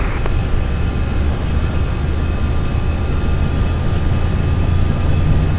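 Air Canada Boeing 787 airliner engines roar during the takeoff roll at Edmonton in the Prepar3D v5 flight simulator, a loud, steady, deep rumble that holds for the whole stretch, with no talking.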